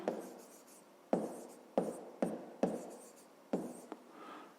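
Handwritten strokes on paper while working through a 5th-grade math exercise, a series of sharp scratching onsets with trailing scrapes, close and quiet, with no talking.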